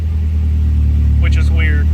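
A 1992 Volvo 240 engine idles with a sticky idle, a low steady rumble running close and loud throughout, while a voice briefly speaks over it near the end.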